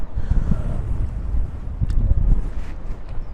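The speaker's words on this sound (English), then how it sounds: "today is windy, so I had to record using my camera because of the external mic. It's very windy." Strong gusts buffet an outdoor camera microphone, a steady low rumbling roar with uneven surges throughout, close and loud, with no voice.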